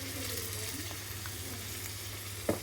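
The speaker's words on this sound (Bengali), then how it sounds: "আর এতে পানি দিয়ে দেবো, অল্প একটু পানি দিয়ে দেবো।" Chicken curry with potatoes sizzles steadily in a pan as a little water goes in, a quiet, even frying hiss with faint stirring and a short clink near the end, no talking.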